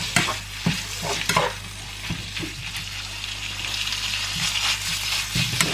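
Homemade burger meat seasoned with salt and ground pepper being mixed by hand, giving soft, wet squelching and stirring noises at close range under a steady low background hum, with no talking.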